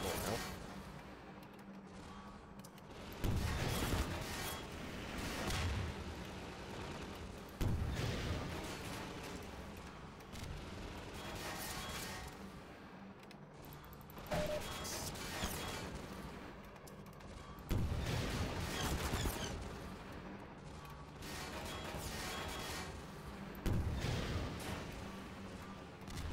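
Rocket launcher firing in Half-Life 2: Lost Coast, with repeated loud blasts and booming impacts every few seconds, each followed by a rumbling tail over constant game ambience.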